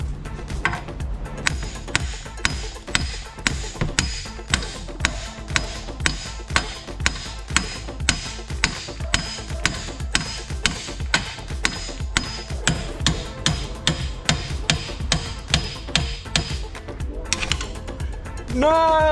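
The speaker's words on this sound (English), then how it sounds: "now I've just got to try and separate the wheel bearing from the hub itself" A hammer pounds to separate the wheel bearing from the hub of a VW Scirocco R abandoned on a farm: rapid, loud, close metallic strikes in a steady, relentless rhythm for nearly the whole stretch.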